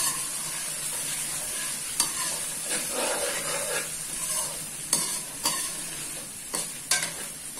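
Whole black cardamom pods and small cinnamon stick pieces roasting in a hot pan for a chicken korma, a soft continuous sizzle broken by several sharp scrapes and knocks of a stirring spoon, with no talking.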